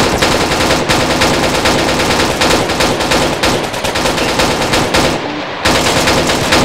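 Machine guns fire in a combat video game during a ZEUS COOP operation, with loud rapid bursts that run almost without a break and drop out briefly near the end.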